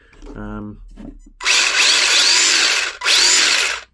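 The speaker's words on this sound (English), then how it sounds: "There's a strong motor here. I don't know if you can make that out or not, but it's a modified motor" A modified electric motor in a Tamiya RC car whines loudly at high speed in two bursts separated by a short gap, following a brief spoken phrase.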